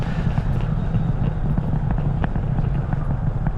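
Falcon Heavy rocket's Merlin 1D engines roar steadily during a 2022 launch, a continuous low broadband rumble heard from a distance with no talk over it.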